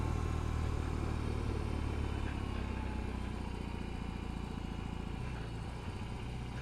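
A BMW R18 motorcycle engine runs steadily under way, a dense, continuous low rumble with road and wind noise, loud and close throughout with no speech.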